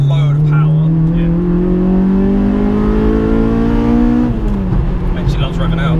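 A Honda Civic Type R engine revs up smoothly and loudly, its pitch climbing steadily for several seconds before dropping back, close and continuous, with speech faintly under it.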